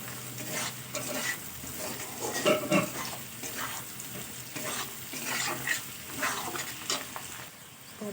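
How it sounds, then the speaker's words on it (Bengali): Sliced bitter gourd and potato frying in fish oil as turmeric powder is stirred in, a steady close sizzle broken by repeated spatula scrapes and stirring strokes, with no voices. "হলুদটা দেওয়ার পরে একটু নাড়াচাড়া করে নেবো"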